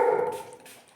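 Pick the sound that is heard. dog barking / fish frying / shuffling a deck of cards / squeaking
dog barking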